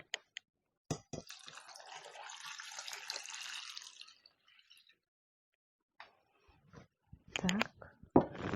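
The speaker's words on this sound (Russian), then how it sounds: "Так, сейчас воду добавлю сюда." Tap water pours into a cooking pot in a village kitchen, a splashing rush lasting about three seconds that then tapers off, followed by scattered clinks and knocks of handling.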